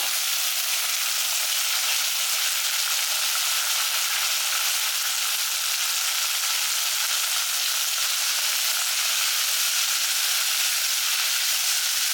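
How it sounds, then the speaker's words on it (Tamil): Chopped tomatoes with asafoetida sizzle steadily in hot oil, a loud, continuous frying hiss that stays even from start to finish with no voices. "பெருங்காயம் பொரிஞ்ச உடனே தக்காளி பழம் வந்து கொஞ்சம் பெருசு பெருசாக கட் பண்ணி வச்சுக்கோங்க அதையும் இதில் சேர்த்துடலாம்"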